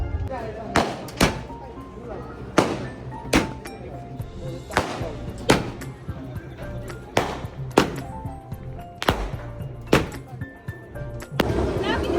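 Firecrackers burst one after another in sharp, loud bangs, roughly every second or so, with voices in the background.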